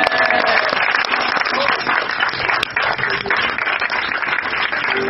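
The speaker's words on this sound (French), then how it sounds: "Donne-moi une bonne acclamation." A large crowd applauding and clapping steadily, loud and continuous throughout, with a faint cheer near the middle.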